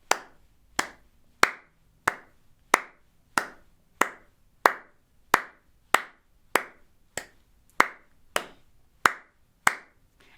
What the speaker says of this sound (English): the clapping is going to be the same as our exercise 45, where it's just on the beats